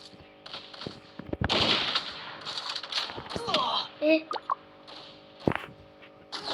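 Rapid bursts of gunfire and clicky weapon sounds from the video game Counter-Strike, with a voice speaking over the fast, uneven shots.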